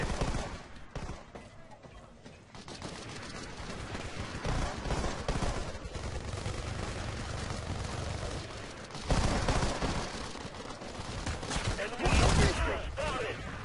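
In a video game, an SMG fires short bursts of gunfire at close quarters, with a louder burst near the end, over steady background game noise and someone talking throughout.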